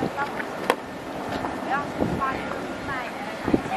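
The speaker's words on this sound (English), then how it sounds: "Bit windy." Gusty wind blows across a hillside on Santorini, a steady rushing roar with buffeting on the microphone, while faint voices carry underneath.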